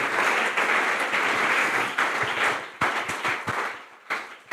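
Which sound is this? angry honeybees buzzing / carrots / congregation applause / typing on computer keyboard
congregation applause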